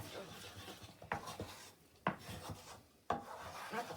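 Egg being stirred and scraped around the edge of a pan for chicken fried rice, heard as close, rough scraping strokes with a few sharper knocks in between.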